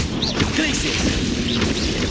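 Confringo fire-blast spells cast in Hogwarts Legacy, with dense crackling, smashing impacts and rumbling bursts that layer continuously through a loud combat mix, with voices in the background.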